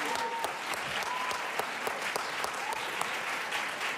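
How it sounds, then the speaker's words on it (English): An audience gives panelists a round of applause at a panel event, sustained even clapping from many hands filling the room from start to finish. "I'd like to give our panelists one more round of applause."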